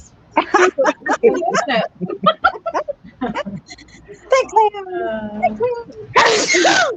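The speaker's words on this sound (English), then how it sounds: "Yeah, I sneezed and I didn't realize it." One person sneezes loudly and sharply near the end, a single burst that follows chatty talk, laughter and moaning sounds from people close by.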